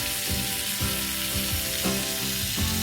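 Strips of snow goose breast sear in freshly melted butter in a hot pan, a loud steady sizzle with rhythmic bursts as pieces are moved, and no voices.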